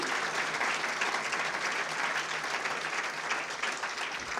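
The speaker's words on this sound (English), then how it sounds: "Give them a big round of applause" Steady applause from a crowd, dense clapping sustained at an even level throughout without pause.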